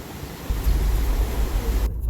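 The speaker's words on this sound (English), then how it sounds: "these waves are getting a lot bigger, it seems like" Ocean surf on a Hawaii shore: a broad wash of waves breaking and rolling in close by, loud and steady with wind buffeting the microphone, and no one talking.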